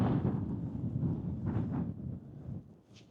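Gusty wind buffets the microphone on an exposed fell top near Rossett and Esk, a rumbling low roar that swells and eases for a few seconds.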